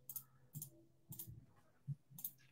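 Computer mouse clicked a handful of times at an irregular pace, each click sharp, faint and close, with quiet room tone in between and no talking.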